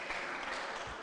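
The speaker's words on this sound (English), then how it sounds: "Give Tobias a round of applause." A faint, continuous patter of group clapping for Tobias at a church gathering, steady and even throughout the brief moment, with no voice over it.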